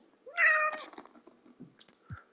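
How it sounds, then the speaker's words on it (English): A house cat lets out one loud, close, drawn-out meow, followed by softer small sounds and a brief low chirp near the end, with no voices. "That was my cat."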